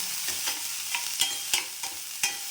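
Mustard seeds with urad dal and chana dal frying in hot oil on low heat, a steady soft sizzle broken by sharp crackling pops every half second or so, close and fairly quiet.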